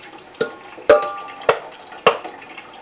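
Water poured into ash sludge in a bowl gives four separate splashy plops roughly half a second apart, each a short close watery knock with a faint ring, in a quiet room.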